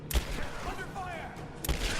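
Gunfire in the Rise of the Tomb Raider video game: two sharp shots spaced apart over a busy background, with game characters' voices shouting in between.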